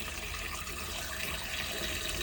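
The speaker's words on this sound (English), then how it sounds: "you've got a decent amount of pressure as well for a relatively small tap" Hot water runs from a small tap in an Autosleeper Talisman GX motorhome, a steady, close hiss of flowing water at fair pressure with no voices over it.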